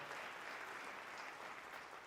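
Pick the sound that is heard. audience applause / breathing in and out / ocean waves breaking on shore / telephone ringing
audience applause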